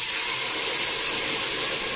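Tomato sauce poured into a hot pan of browned onion gives a loud, steady steam hiss and broad sizzle that holds for two seconds without pause.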